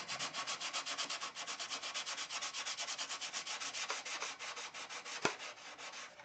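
Sandpaper works superfill filler on a Mega Tucker model airplane wing. Quick, close, rhythmic back-and-forth scrubbing strokes repeat evenly, with one sharp knock near the end.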